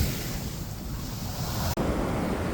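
Ocean waves wash continuously onto a beach at a resort, a loud, steady surf roar mixed with gusting wind noise on the microphone and a brief dropout near the end.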